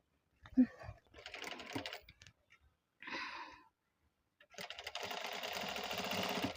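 Sewing machine stitching a round neck blouse: a short burst, then a few starts and stops, then a longer steady run of rapid close rattling stitches, with quiet pauses between.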